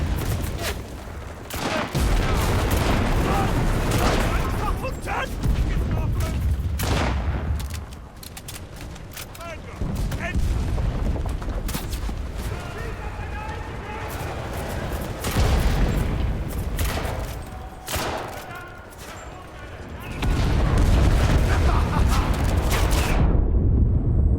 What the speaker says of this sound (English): Brauchen Artillerieunterstützung. Verstanden! Artillerie! Feuer!